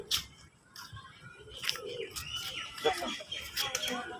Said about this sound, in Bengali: গোল্লা কবুতর সিরাজি কবুতর